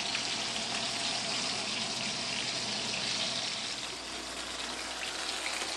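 Cod fillets fry in a pan, giving a steady, close, broadband hiss of sizzling oil that holds level throughout and dips slightly near the end, with no talk.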